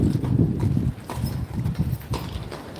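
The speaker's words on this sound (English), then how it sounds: "Really enthusiastic horse." Hooves of Horse Guards horses clatter on pavement, a dense run of close, loud clip-clops at the start that thins into spaced, lighter strikes as the horses move on.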